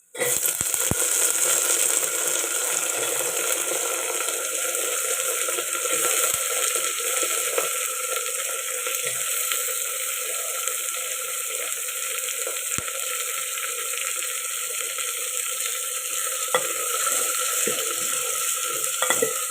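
Eggplant and potato pieces sizzle steadily in a hot pan, with soft scraping and stirring noises over a constant frying hiss.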